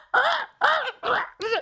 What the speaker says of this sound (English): Temp of crow getting attacked by bees.